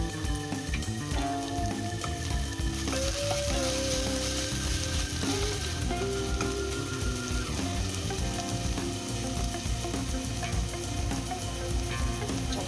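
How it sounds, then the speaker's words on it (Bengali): Water spinach (kalmi greens) frying in a pan with a spoonful of sugar, stirred steadily; a constant loud sizzle with scraping stir sounds and clinks throughout, no talking. "চিনি দিয়ে একটু নাড়াচাড়া দিয়ে শাকটা নামিয়ে দেবো।"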